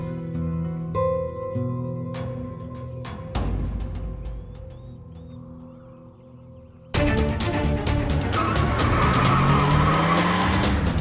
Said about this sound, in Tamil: வண்டி சத்தம் கேக்குது